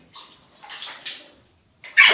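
A small child splashes in water during an improvised bath, with bursts of close sloshing and splashes separated by brief pauses, ending in one loud, sharp splash.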